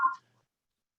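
A mobile phone emits a short electronic beep tone, brief and fairly faint, then silence, during a town selectboard meeting.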